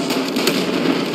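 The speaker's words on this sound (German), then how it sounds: "Ich werfe eine Granate." Grenade explosion in a war video game, a dense, loud burst of crackling blast noise filling the whole moment with no talking over it.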